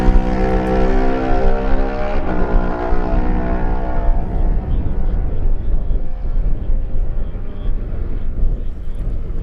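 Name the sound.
Kawasaki racing motorcycles passing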